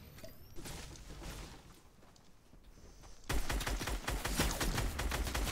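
A minigun fires in Fortnite, with a rapid continuous stream of shots that erupts loudly partway through and keeps going to the end, after quieter scattered gunfire and game noise.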